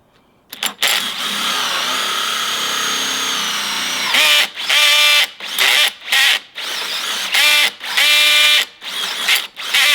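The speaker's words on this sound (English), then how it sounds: "We'll drill from the other side here a little bit." A power drill bores through metal on a pressure washing trailer build, running in one long steady whine and then in a string of short bursts with brief pauses, loud and close.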